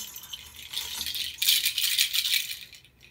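Small bells shaken in a classroom demonstration give a bright, jingling metallic rattle in quick bursts, building then fading over about three seconds, close and fairly soft.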